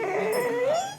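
A guide dog whimpers close by in one drawn-out, high, wavering whine that dips and then rises in pitch.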